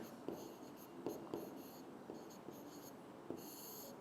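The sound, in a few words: writing on a board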